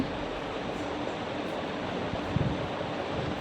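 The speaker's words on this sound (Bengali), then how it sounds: "এখন তেলের মধ্যে যেগুলো সবজি কেটে রেখেছিলাম ওই সবজিগুলো ভেজে নেব।" Potato, eggplant and drumstick pieces fry in hot oil with a dense, steady hiss that stays loud and close throughout, plus a brief crackle partway through.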